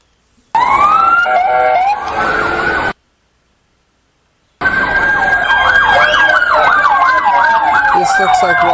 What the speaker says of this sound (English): This looks like raw footage of ambulances arriving.